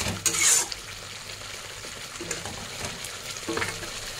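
A jackfruit and prawn kofta curry masala is stirred and sautéed in a pan, its sizzle continuous beneath scraping spatula strokes and a loud metallic clatter early on, then more soft scrapes toward the end.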